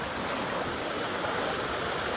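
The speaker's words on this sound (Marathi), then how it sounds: "जोरदार आलेला पाऊस एकदम. बहुत जोरचा आहे गाईस पाणी बघू शकतात." A dense, steady hiss of heavy monsoon rain pouring down near Bolinj, Virar, constant and loud with no breaks throughout.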